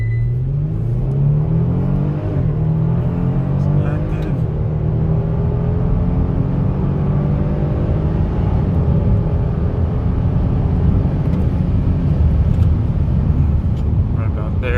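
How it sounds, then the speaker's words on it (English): Kia Stinger GT launching at full throttle in launch mode on a quarter-mile stretch, engine note climbing loudly through gears, with continuous road and wind roar from inside the car. "mash the gas all the way down, and then release."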